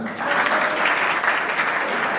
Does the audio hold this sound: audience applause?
yes